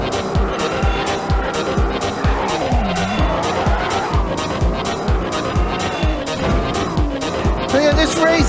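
Race cars roar and tires squeal through twists and turns on an LA circuit in the Midnight Club 2 video game, with loud rhythmic engine pulses and rising revs over background music.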